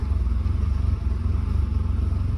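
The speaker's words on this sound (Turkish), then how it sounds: "Şimdi bir gün bekledikten sonra marşına basalım. Hiç gaz vermeden" An Opel Calibra engine idling steadily after starting without any throttle, a low, even mechanical rumble with a slight rhythmic pulse, close and continuous, with no voices.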